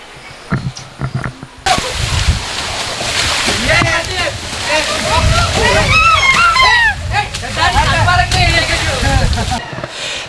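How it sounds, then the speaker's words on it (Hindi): Waterfalls at a Hindu pilgrimage site climbed by stairs, with water rushing and splashing loudly over a steady roar as people talk and call out nearby. "सबसे पहले हमें झरनों के दर्शन होते हैं"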